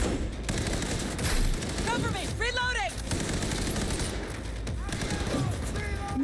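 Rapid gunfire bursts from Cyberpunk 2077 fill the stretch, dense and sustained throughout, with game voices and other effects mixed over the shooting.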